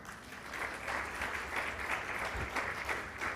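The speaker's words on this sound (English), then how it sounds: "So if you would like to clap hands" Audience applause at an education conference in Dubai, a steady wash of many hands clapping at moderate distance, sustained through the whole stretch with no talk over it.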